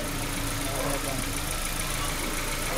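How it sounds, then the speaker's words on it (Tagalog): A car engine idles steadily while a battery analyzer is clipped to the battery, a constant mid-level rumble with a faint knock that holds throughout the short stretch. "habang umaandar yung sakyan"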